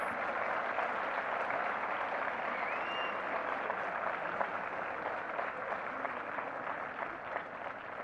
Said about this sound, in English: Let's give them one last big round of applause.